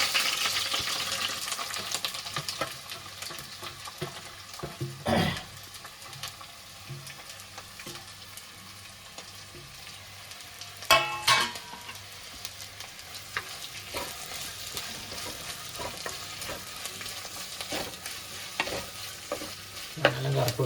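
Onions and chopped ingredients frying in hot oil, a steady soft sizzle broken by occasional louder clacks and scrapes of stirring, close by and with no voices.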